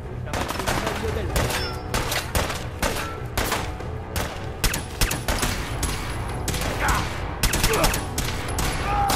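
Gunfire in Fallout 4, bursts of loud, sharp shots in rapid clusters with brief gaps, dense and near, with a voice calling out briefly amid the shooting.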